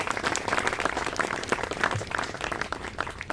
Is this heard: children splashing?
no